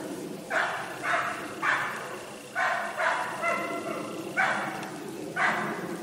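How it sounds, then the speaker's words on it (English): A dog in a backyard barks repeatedly, six or so separate barks at a steady, moderately spaced rhythm, fairly close and clear over a quiet outdoor background. "Maybe that dog's barking at that airplane."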